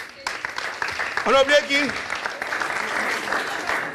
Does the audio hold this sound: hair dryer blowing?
no